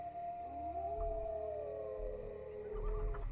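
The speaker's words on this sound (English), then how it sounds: "Tiernan, you hear the howling before the others do" Wolves howl as a sound effect in a Dungeons & Dragons session, with several long, sliding, overlapping howls rising and falling. They sound somewhat distant over a low rumbling background.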